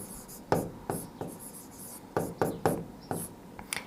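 A pen scratches out a maths solution in quick irregular strokes and taps, close and fairly soft, with no one talking.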